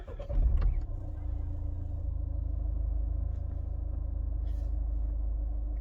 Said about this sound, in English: Turn off ignition. Start car.